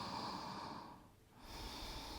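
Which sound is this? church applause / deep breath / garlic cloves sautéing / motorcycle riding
deep breath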